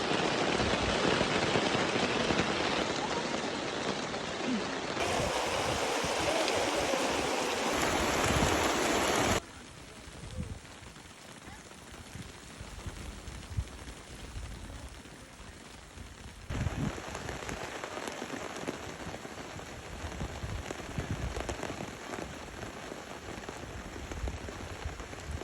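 Heavy rain pouring steadily, a dense constant hiss of drops on surfaces that drops in intensity partway through and then swells again, loud and close with no talking.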